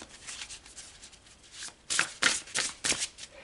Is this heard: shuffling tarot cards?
yes